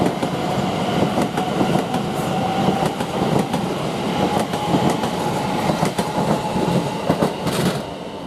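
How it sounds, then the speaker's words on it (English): A Greater Anglia class 720 electric train pulls out of Shenfield station, a loud, continuous rumble and rolling wheel noise with rhythmic clicks over the rails, close by and without talk. "Now we've got a Greater Anglia train with the 1325 from Southend Victoria to London Liverpool, which is now departing."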